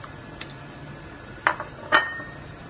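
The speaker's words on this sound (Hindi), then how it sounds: "ये मैं अब इसमें गोश्त डाल रही हूँ" Beef for kulfa gosht being dropped into a cooking pot, heard as a few brief, near clinks and knocks of pot and utensil spread over a quiet moment with no talk.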